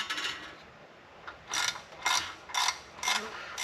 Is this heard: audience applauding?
no